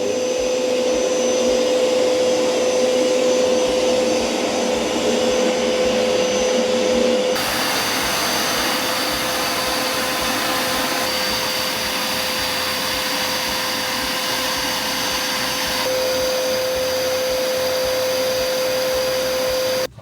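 A carpet washing machine sucks up water from a carpet with a loud, continuous motor drone and airy suction hiss; the tone shifts slightly partway through, and there is no talk.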